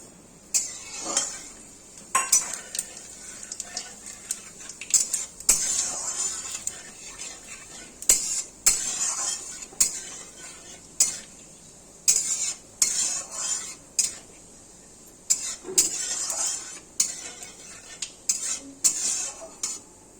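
Whole cumin seeds and bay leaves, with dried red chillies, frying in hot oil, a steady soft sizzle broken by repeated clinks and scrapes of a spoon stirring against the pan.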